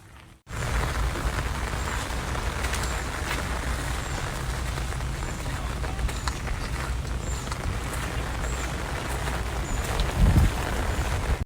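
Dense, steady rain hisses and patters on surfaces, loud and unbroken for several seconds, with a brief low thump near the end.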